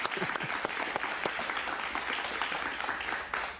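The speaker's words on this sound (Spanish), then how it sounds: "lo recibimos con un aplauso muy cariñoso" A television studio audience claps to welcome an interview guest, a sustained, even burst of applause at moderate level with a few sharper individual claps standing out.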